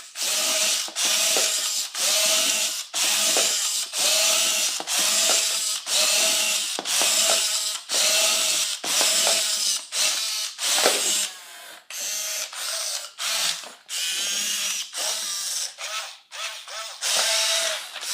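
An i-Cybie robot dog doing push-ups makes loud, close whirring servo-motor bursts, each rising and falling in a regular rhythm of about one per second, mechanical and ratchety, with no one speaking.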